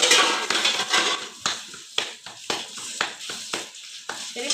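Metal pots, dishes and cutlery clatter and clank in a home kitchen, a rapid irregular run of sharp knocks and scrapes, close and fairly loud.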